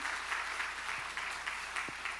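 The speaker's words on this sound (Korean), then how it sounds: "우리 다시 한번 박수하십시다." Inside a Sunday church service in Wonju, a congregation claps together, a continuous patter of many hands with a few sharper beats, heard at a moderate distance in the sanctuary.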